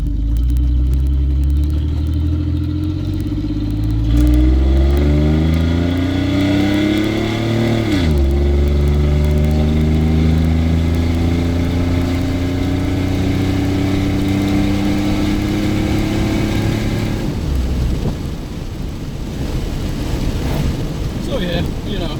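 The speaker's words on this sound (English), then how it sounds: "See how this acceleration does. Here's some of this exhaust too." A bone-stock 2004 Chevrolet Silverado pickup with a 4.3 V6 revs up through the gears with a deep exhaust rumble, pitch climbing steadily, then dropping as it eases off, with wind noise.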